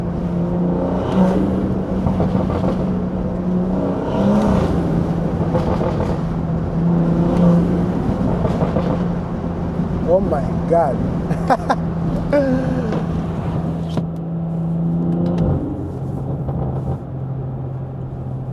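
A BMW 340i with the B58 engine is driven and revved, its engine note rising and falling through pulls from inside the cabin, with someone talking excitedly over it throughout.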